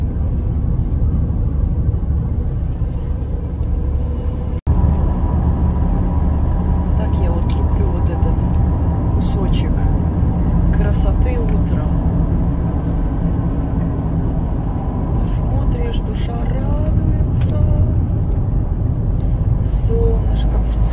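Constant low rumble of a car driving along a road, heard from inside with steady engine and tire drone, one brief knock early on, and a person speaking intermittently over the noise.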